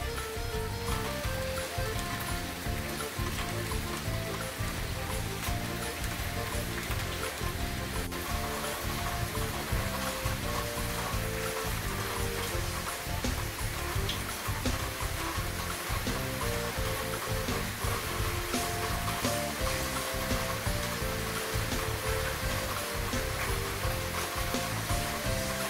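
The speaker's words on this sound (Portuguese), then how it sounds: "E muita chuva, tá chovendo." Heavy rain falls steadily in the Brazilian Nordeste, Rio Grande do Norte, a dense, continuous hiss of drops with no pauses, close and enveloping, with no one speaking.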